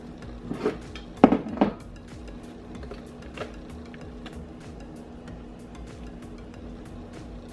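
Spoon clinking and scraping in a baking bowl as batter is stirred, a few sharp taps early on followed by quieter, scattered ticks and light scraping.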